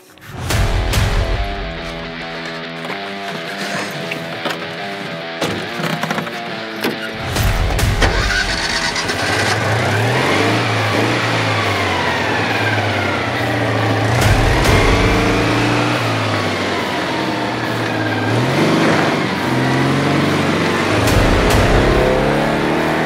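A 1977 Citroën 2CV4's small air-cooled twin cranks over and fires, then revs and pulls away, its engine note climbing through gear changes as it drives off down a country road, loud and close throughout.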